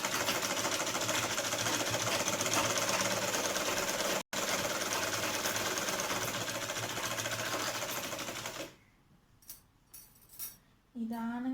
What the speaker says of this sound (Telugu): ఇదండి స్టిచ్ చేస్తున్నాను.